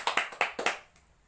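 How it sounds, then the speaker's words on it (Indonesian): Short burst of applause in a classroom for a student, several quick claps in uneven rhythm, close and fairly loud, fading out after about a second with no talking. "tepuk tangan untuk Alia dulu."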